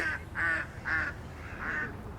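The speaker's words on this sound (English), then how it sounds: "Shut up, duck!" Four nasal duck quacks ring out in a loose rhythm, fairly close and clear, over a low background rumble with no talking.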